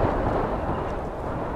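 Thunder from a big storm in the video game This Land is My Land, a broad low rumble rolling continuously and fairly loud, with no voices over it.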